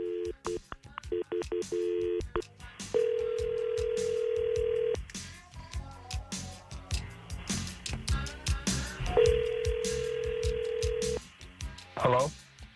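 Telephone on an outgoing call, with quick keypad-style tones at first, then two long ringback tones separated by a pause, loud and close, with people talking in between.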